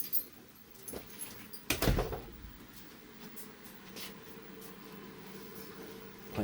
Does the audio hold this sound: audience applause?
no